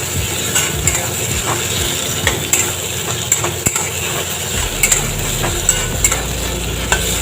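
Potatoes and ridge gourd fry in a pan with a constant loud sizzle while a utensil stirs and scrapes against the metal in irregular clicks and knocks, close up, with no talk.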